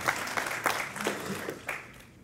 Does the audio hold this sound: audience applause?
yes